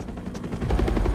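Helicopter in the video game Spider-Man 2, a steady rhythmic rotor chop that builds louder toward the end, mixed with dense game action noise and no talk.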